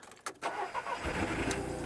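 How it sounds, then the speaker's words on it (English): A three-cylinder car engine with an exhaust blow cranks and catches, then settles into a rough, uneven, lawnmower-like idle. "It does sound like a lawnmower because it's a 3-cylinder and it's got a bit of an exhaust blow."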